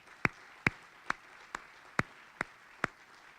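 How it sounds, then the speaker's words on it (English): Hand claps for board members at a county chamber of commerce showcase: seven sharp, isolated claps at a slow, even pace, close and distinct against a quiet room. "If you'd give them a round of applause."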